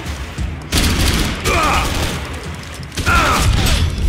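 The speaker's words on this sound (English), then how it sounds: "Gunfire over Hoboken." Loud bursts of gunfire in the video game Max Payne 3 erupt in two broad volleys, separated by a quieter gap, with mechanical clatter and rumble filling the background.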